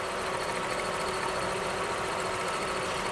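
A car engine idles roughly with one ignition coil pulled during a misfire check, giving a steady, uneven mid-pitched hum with a shaky vibration throughout and no talk over it.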